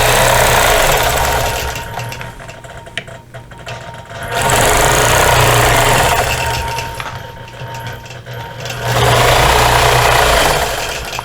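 Sewing machine stitching a Hawaiian quilt, running in two long loud bursts of steady rapid mechanical whirring separated by a quieter pause, close and without talk.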